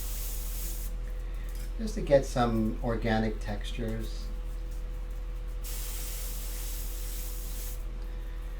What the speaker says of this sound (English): we're just going to just spray some here and there